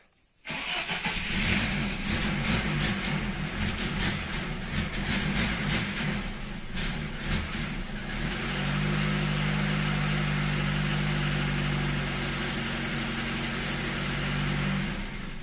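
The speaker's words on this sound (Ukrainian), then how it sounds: "Двигун працює." A VAZ 2106 car engine cranks and catches, revs unevenly for several seconds, then settles into a steady, loud idle with a droning hum.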